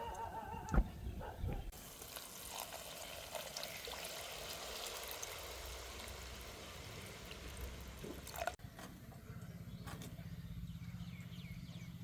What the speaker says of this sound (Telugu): ఇప్పుడు కూరకు సరిపడా నీళ్లు పోస్తాను.